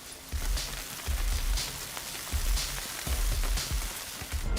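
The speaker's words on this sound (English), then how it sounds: "The ground glass sifts through a grate and falls into a bin below." Finely ground glass from crushed beer bottles pours through a grate into a bin below, a steady hissing patter like rain, rising and falling in waves.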